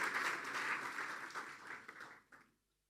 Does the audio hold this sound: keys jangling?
no